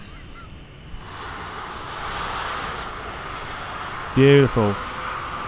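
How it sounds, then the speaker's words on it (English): Jet airliner in UPS livery taxiing at Dublin Airport in Microsoft Flight Simulator 2020, a steady broad engine drone holding across the clip while a voice speaks briefly near the end. "And there goes UPS taxiing."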